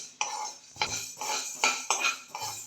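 Fenugreek seeds being dry-roasted and stirred in a kadhai over a low flame, with a spoon or spatula scraping and clinking against the metal pan in several sharp, irregular strokes, close and fairly quiet.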